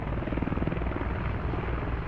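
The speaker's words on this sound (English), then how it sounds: "Enemy helicopters landing in Crappie right now." Helicopter landing in the Squad video game, a steady close rotor thump with a continuous engine drone filling the short stretch, no talk over it.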